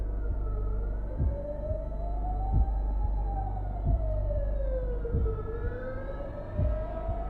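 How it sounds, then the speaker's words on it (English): Video game audio: a police siren wailing, rising and falling slowly at a distance, with a low rhythmic thumping beating underneath throughout. "I'm hearing cop sirens"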